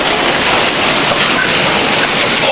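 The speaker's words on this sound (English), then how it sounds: "No, it's still hailing." Hail pounds down steadily during a storm, a dense, loud, unbroken hiss and patter of ice striking surfaces with no pauses.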